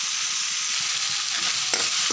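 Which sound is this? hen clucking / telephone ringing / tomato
tomato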